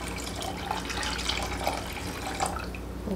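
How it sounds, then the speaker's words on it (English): One liter of fresh filtered water poured into a pot for lemon, ginger and parsley tea, a steady close splashing and trickling stream with a few brighter drips, continuous throughout and no talking. "I'm going to add in 1 liter of fresh filtered water"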